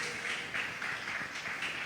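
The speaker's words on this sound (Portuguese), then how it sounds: "Dê uma salva de palmas pela palavra do Senhor Jesus." Applause from a church congregation, a steady even wash of many hands clapping together at moderate level, continuous throughout without any voices.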